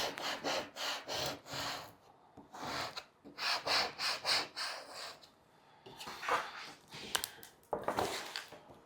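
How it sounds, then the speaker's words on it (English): Squeegee rubbed firmly over a sticker sheet on a cutting mat, heard as repeated short rasping strokes in bursts, close and moderately loud with brief pauses between passes. "And then I'm going to use a squeegee to help kind of secure it a little bit."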